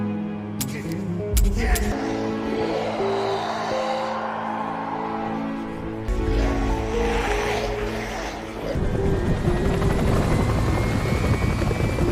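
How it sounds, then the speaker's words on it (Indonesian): A helicopter in a film roars steadily with a deep thumping rotor drone, loud and close, firing on zombies, with other noise layered in and a surge toward the end. "tiba-tiba saja muncul sebuah helikopter yang langsung menembaki para zombie tersebut"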